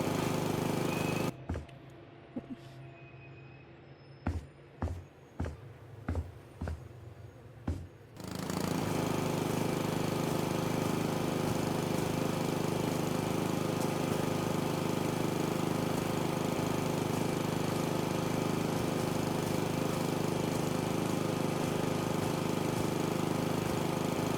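Lawn mowing in the House Flipper 2 video game: several sharp clicks and brief engine bursts give way to a steady, continuous mower drone that runs evenly to the end.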